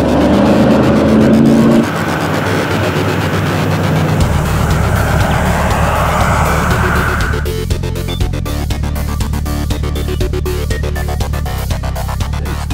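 A hot rod with a quick change rear end drives down the street. Its engine gives a loud, steady roar that changes pitch about two and seven seconds in, with no talking.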